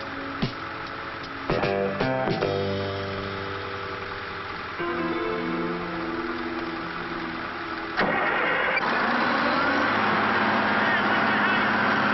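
A lift truck's engine cranks and catches, then settles into a steady mechanical idle, with a second surge in revving partway through; it is close and continuous.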